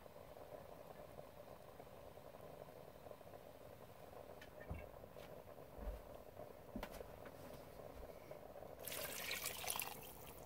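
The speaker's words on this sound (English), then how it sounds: "We're gonna add some more water." Water trickles and pours into a pot of pork stock made from pork feet for menudo, with a faint, continuous liquid sound. It grows into a louder splashing burst near the end.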